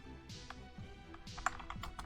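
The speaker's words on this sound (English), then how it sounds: "super hard to type and talk at the same time sometimes" Rapid clicking of computer keyboard keys typed in quick irregular bursts, close and fairly quiet, with no voice over it.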